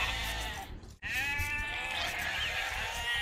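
Sheep bleating in the Age of Empires 2 Definitive Edition strategy game, a string of wavering calls over a steady game background, briefly dropping out for a moment before resuming.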